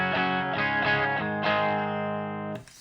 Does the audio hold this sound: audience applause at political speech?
no